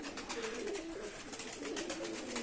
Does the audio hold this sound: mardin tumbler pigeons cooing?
yes